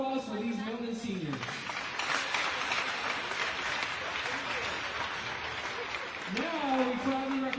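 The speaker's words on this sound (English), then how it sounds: "Please give a round of applause for these Milton seniors." Crowd at a high school hockey game applauding the Milton seniors, steady broad clapping through the middle, framed by an announcer's amplified voice at the start and end.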